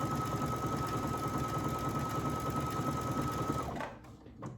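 A Brother Essence VM5200 sewing machine stitches steadily and loudly up close, a continuous whirring hum with a high tonal whine, then stops abruptly near the end, with no talk.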